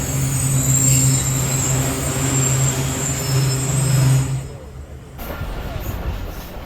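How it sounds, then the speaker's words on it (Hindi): The Khyber Mail train pulls out of Kotki railway station with loud wheel squeal and rumbling carriages up close, then the squeal cuts off and the rolling noise quiets to a lower clatter. "ट्रेन जो है वो कोटकी रेलवे स्टेशन से निकल चुकी है तकरीबन 2 मिनट रुकने के बाद, और अब आगे बढ़ रही है"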